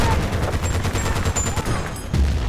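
Rapid gunfire from the video game Battlefield Bad Company 2, a rattling string of sharp shots in close succession with a heavier thump near the end, fairly loud and continuous.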